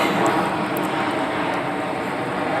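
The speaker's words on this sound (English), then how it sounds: "The airplanes are going crazy over here today." Airplane engine drone passing overhead above a small townhouse garden backed by woods, a steady, fairly loud broadband roar holding for several seconds with no talk.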